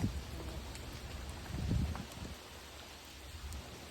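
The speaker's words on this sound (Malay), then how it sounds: "Hujan guys sekarang." Steady rain falls as a soft, continuous hiss while fishing by an island, with a low rumble of heavier noise briefly swelling in the middle.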